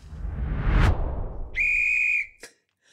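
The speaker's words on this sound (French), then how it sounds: "il y a quelqu'un qui a sifflé" A whistle blown once in a sharp, steady, high-pitched blast lasting about half a second, following a swelling whoosh, then a short squeak and silence.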